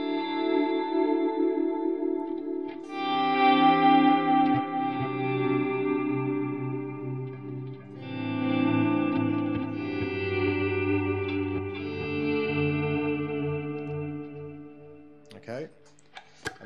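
Electric guitar notes swelling in smoothly with no pick attack through a One Control OC10 volume swell pedal, washed in echo and reverb, sustained chords blooming one after another for several seconds.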